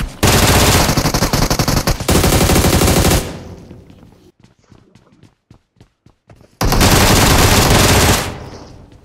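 Loud, close automatic rifle fire from the battle royale game BGMI rips out in long sustained bursts, pauses for a few scattered single shots and faint footsteps, then a final heavy burst.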